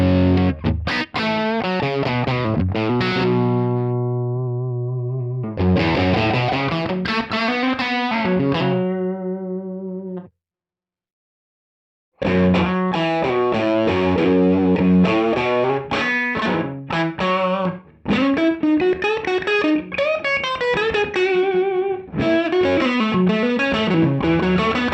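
Electric guitar played through a Universal Audio Lion '68 amp plugin, giving distorted, sustained chords and single-note runs with a short silent gap midway, loud and up front, no talking.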